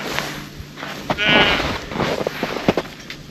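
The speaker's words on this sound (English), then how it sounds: "We got goat friends." Pet goats out in the snow at a cold winter campsite let out a short wavering bleat, close by, amid light rustling and small knocks, with a person speaking softly to them.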